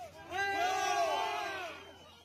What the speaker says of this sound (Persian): اینجا مهاجران تلاش میکنند به زور دروازه ورودی به یونان را بشکنند.